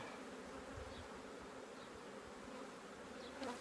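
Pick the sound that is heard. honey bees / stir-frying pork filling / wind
honey bees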